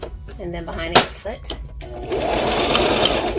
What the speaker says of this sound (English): Throw it under your sewing machine.